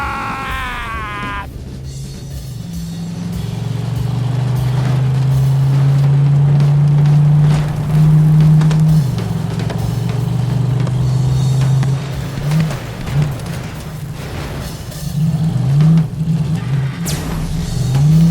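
A vehicle drives fast in the video game Borderlands 3, its engine droning loudly and steadily with pitch rising and falling as it revs, while gunfire and game effects clatter around it.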